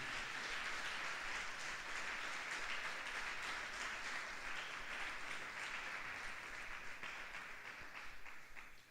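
Steady applause from a church congregation, a continuous dense clatter of many hands heard at a distance and fairly faint, tapering slightly near the end.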